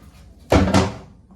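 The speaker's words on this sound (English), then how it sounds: "Close the door." A single cabin door aboard an Island Packet 439 sailboat swings shut with a solid thud and a brief rattle, close by, then quiet.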